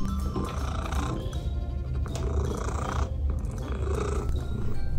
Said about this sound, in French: Écoutez ce ronronnement.